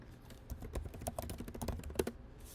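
Fast, steady clatter of keys on a computer keyboard, soft and close, continuing for a couple of seconds with no voice over it.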